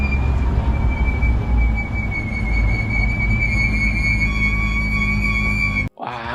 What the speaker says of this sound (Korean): 레이싱카의 실내에선 이런 소리가 납니다.